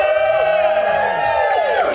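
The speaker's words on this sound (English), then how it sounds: "So this would be a loud cheer." A comedy-club crowd at a live show lets out a loud cheer, with whoops and wavering shouted voices rising and falling together at close range.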